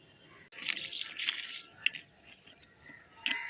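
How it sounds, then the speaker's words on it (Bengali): Water splashes and patters onto plants on a rooftop in a few short close bursts, with dripping and faint rustling between them and no speech. "চলো গাছে একটু জল দিয়ে দিই"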